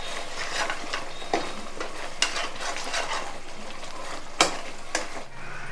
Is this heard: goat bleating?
no